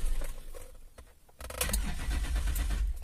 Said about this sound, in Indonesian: Starternya agak panjang